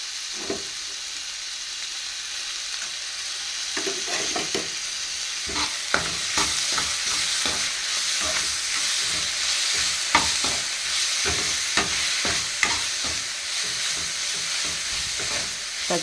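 Ginger garlic paste fries over a low flame in a pan, a steady close sizzle running throughout, broken by repeated scraping clicks of a spoon stirring it, with no talking.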